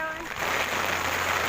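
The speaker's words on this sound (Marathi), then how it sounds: "परत पाऊस आला आहे जोरदार" Heavy rain pours down on waterlogged roads in Virar's Kargil Nagar, a dense, steady roaring hiss that surges in after a brief voice at the start and stays loud to the end.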